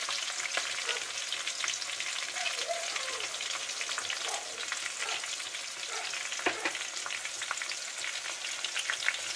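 Chopped onion and garlic frying in a pan for a vegetarian dish, a steady close sizzle with occasional stirring scrapes and crackles, no voices.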